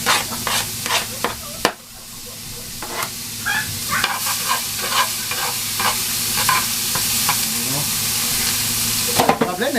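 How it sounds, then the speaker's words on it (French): Onions fry in butter in a pan over lowered heat, a steady bright sizzle with scraping stirs and clinks of a utensil against the pan. "On va mettre notre beurre. On va baisser le feu. On va mettre nos oignons."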